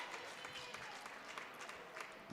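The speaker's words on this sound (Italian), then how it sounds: "applaudito anche dal pubblico locale" Faint, distant applause from the home crowd at a Madracs Udine versus Black Lions Venezia football match, a steady soft clatter of clapping throughout.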